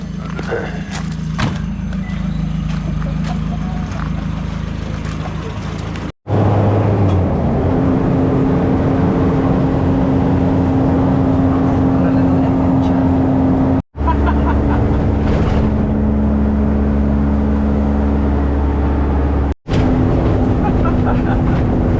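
A car rumbles along a jungle road in Malaysia, its engine droning steadily from inside the cabin with a low hum that shifts pitch as it changes gear, broken by a few abrupt cuts.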